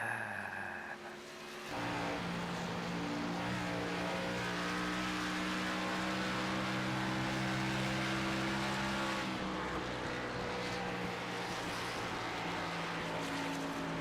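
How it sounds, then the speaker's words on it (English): Toyota Supra race car engine in a racing video game at Atlanta Speedway, a steady sustained drone with engine harmonics, starting after a short quieter lead-in and holding loud throughout, with a slight shift near the end. "Let's see if we can catch it from the noise here on that Toyota Supra."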